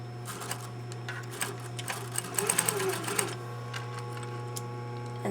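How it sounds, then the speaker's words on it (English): A sewing machine stitching fabric binding along its fold line for a costume band. It runs in short, quick bursts of needle chatter over a constant low motor hum, then stops. "And that means I'll be sewing right to the corner that I just clipped to."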